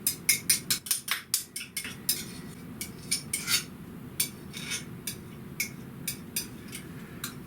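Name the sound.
spoon scraping mayonnaise into a larger mixing bowl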